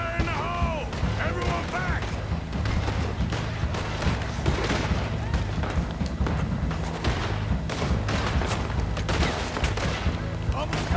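Dynamite blasts in Red Dead Redemption 2 set off a dense, continuous barrage of booms, crashes and crackling gunfire-like bursts, loud and sustained throughout with a voice faintly mixed in.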